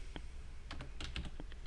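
Quick bursts of clicky typing on a computer keyboard, a handful of irregular keystrokes, close and fairly quiet, no voice.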